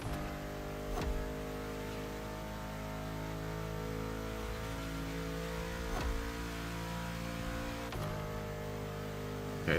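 Car engine in the racing game The Crew Motorfest revving steadily and loudly for the full stretch, with sustained harmonic engine drone, a few brief gear-shift dips and surges, no talking.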